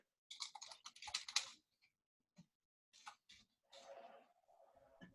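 Bursts of rapid clicky keystrokes on a computer keyboard, close and fairly loud, separated by short pauses, with a softer, duller stretch of typing toward the end.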